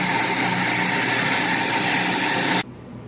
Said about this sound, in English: Turn the grinder on here and just watch for this to fill up.